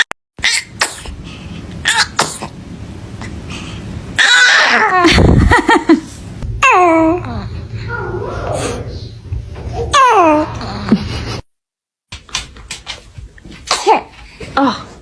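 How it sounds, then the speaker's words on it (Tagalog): A newborn baby sneezes repeatedly in quick, sharp bursts, with soft infant babbling and nearby adult voices talking and exclaiming between the sneezes. "the normal na ginagawa ng baby is bahing ng bahing"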